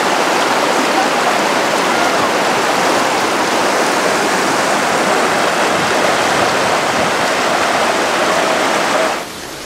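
A river swollen by a flash flood in the village of Zasadne, Kamienica municipality, Limanowa county, Poland, makes a loud, steady, broad rushing roar that fills the whole stretch before dropping off sharply at the very end.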